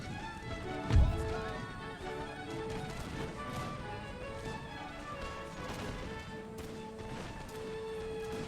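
Cavalry horse hooves and whinnies over a dense, steady battle din in Empire: Total War, with one sharp crash near the start; a busy, continuous game soundscape.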